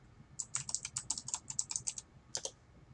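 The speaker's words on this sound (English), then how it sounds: "I cannot talk and type at the same time" Quick bursts of typing on a computer keyboard during a Duskers game session, about a dozen close, crisp clicks in a fast run, a short pause, then two more keystrokes, alone over a low background hum.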